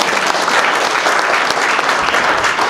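A lecture audience bursts into loud, sustained applause, dense and even clapping from a large crowd that stays at full strength without a break.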